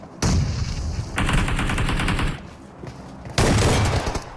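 Bursts of rapid gunfire crack out in three loud volleys, separated by brief lulls of quieter game ambience.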